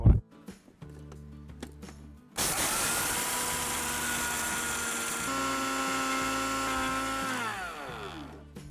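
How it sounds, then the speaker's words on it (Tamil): A mixer grinder powders roasted gram (pottukadalai), starting after a few clicks with a loud, steady high-pitched whirring whine that holds for about six seconds, its pitch shifting slightly before it winds down. "அந்த பொட்டுக்கடலையும் அதே மிக்சியில் போட்டு இதையும் பவுடர் பண்ண"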